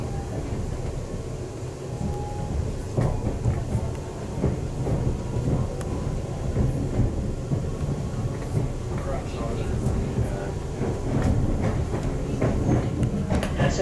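Steady rumbling of a London Northwestern Railway Class 350 electric multiple unit train in motion heard from inside, near Smethwick Galton Bridge, with rattling and clunks over a low drone; faint background murmur at times.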